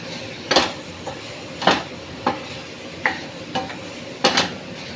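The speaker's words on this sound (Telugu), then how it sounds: "ఇదిగోండి ఇలాగ వేపాలండి." Cauliflower being fried and stirred in a pan for kabuli chana curry: a spoon scrapes and knocks against the pan in irregular strokes over a soft sizzle, close and clear.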